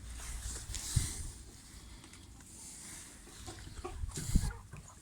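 Chickens cluck intermittently nearby in a coop on a rainy day, low and soft, with occasional shuffling steps and pecking and scratching around them.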